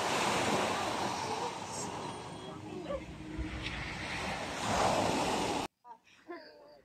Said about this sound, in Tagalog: ang ingay ng dagat.